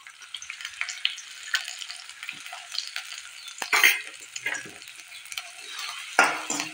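Chopped onion and ginger fry in a couple of spoonfuls of hot oil, giving a steady close sizzle with bursts of stirring and scraping throughout.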